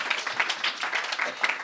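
A group applauds their teacher, a dense run of quick overlapping claps that swells and ebbs in small bursts for under two seconds.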